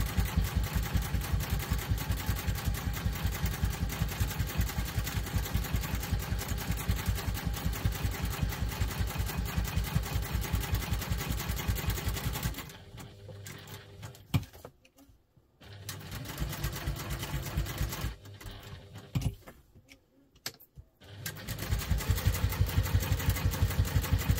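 A sewing machine runs in a fast, even stitch while sewing a double-compartment crossbody bag, then pauses and restarts in short bursts, with a few gaps of near silence.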